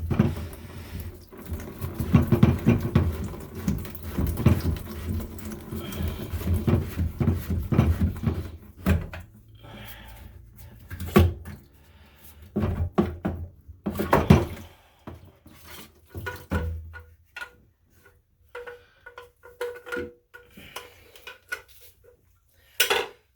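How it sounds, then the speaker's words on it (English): Plastic slip nut and union nut on a slow-draining sink trap being loosened under a sink, with scattered clattering knocks, scrapes and rattles at close range, irregular and alone. "And then our slip adapter up top, we're going to loosen that off. And then the union, the nut on the bottom of the trap, the union trap, we'll take that off too."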